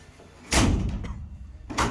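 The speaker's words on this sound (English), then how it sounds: "you shut that door" A sliding side door on a Dodge van slams shut with one loud thud, followed by a brief second knock a moment later.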